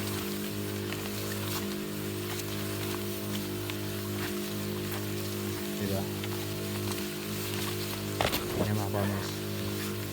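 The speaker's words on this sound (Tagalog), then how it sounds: "ang lakas ng buga ng sprayer" Sprayer blasting herbicide onto weeds in a corn field, a constant hissing spray with a low pump drone underneath, close and steady, with a few brief rustles and bumps.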